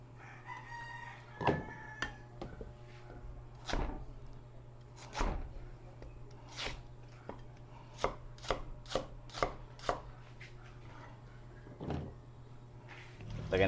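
A knife slicing beef on a chopping board, making a string of sharp, close knocks in an irregular rhythm, some quick bursts, while roosters crow and hens cluck in the background.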